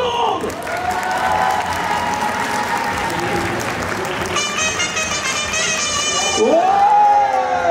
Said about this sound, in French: Un dernier tonnerre d'applaudissements pour tout le monde!